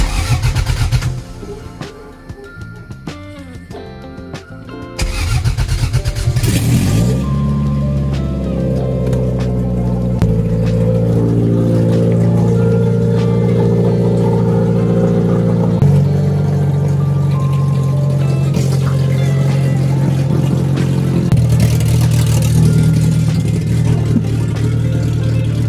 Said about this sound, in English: Started and idled. It seemed to be idling fine.